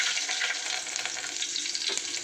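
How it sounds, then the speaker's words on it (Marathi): Curry leaves and bay leaves hit hot oil for an egg curry, giving a loud, steady sizzling hiss that runs unbroken throughout with no talk. "ते तेल तापलेलं आहे। आता टाकते कढीपत्ते आणि तेजपान"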